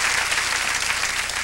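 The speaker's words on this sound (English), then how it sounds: "You can applaud now." A studio audience at a 1994 TNN variety show applauds a ventriloquist, a steady, dense wash of clapping throughout with no talking.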